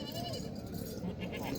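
A dairy goat bleats at a busy outdoor goat market ahead of Bakrid, a short wavering call half buried under steady crowd chatter and nearby talk.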